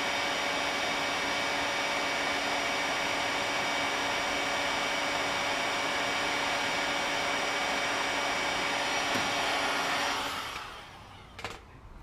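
A heat gun blows hot air in a loud, continuous roar for about ten seconds, then cuts off and winds down, with a brief clatter near the end.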